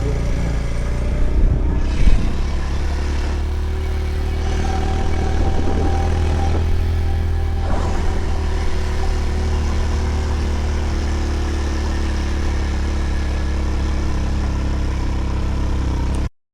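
A motorcycle engine runs steadily throughout on a ride in Lalitpur, Nepal, a low continuous rumble with slight shifts in pitch, close by and fairly loud, with no talking.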